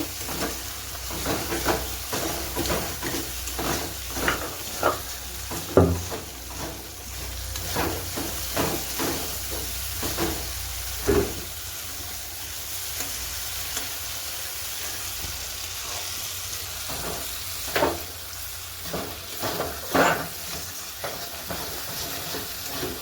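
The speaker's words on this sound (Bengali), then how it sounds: "রসুন বাটা দিয়েছি, আদা বাটা দিয়েছি, তারপরে একটু জিরা বাটা দিয়েছি, তারপরে লঙ্কার গুঁড়ো, হলুদের গুঁড়ো দিয়ে মশলাটা ভালো করে কষিয়ে নিচ্ছি।" A paste of garlic, ginger and cumin with chili and turmeric powder frying in a pan, a steady hiss under frequent short scraping stirs throughout; no voices.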